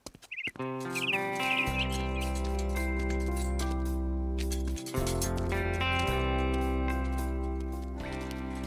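Small blue bird Pilou chirping in the Horseland cartoon: a few quick high tweets near the start, then held under a loud sustained musical score for the rest.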